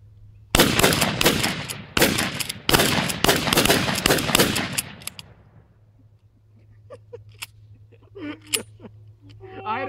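Two shotguns fire in rapid, loud bursts of overlapping blasts for about five seconds, then the shots die away into a quiet hum with a few clicks and a voice.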